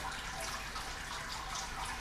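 Water poured from a one-litre jug spreads over the grain bed inside a Grainfather all-grain brewing system during a home stout brew, a steady broadband splashing rush with no talk.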